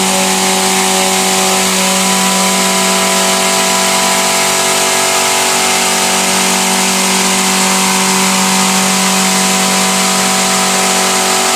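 A milling machine cuts a cup at about 3,000 RPM and roughly 18 inches a minute, giving a loud, constant whine with steady tonal hums and a broad hiss of cutting that holds unchanged throughout.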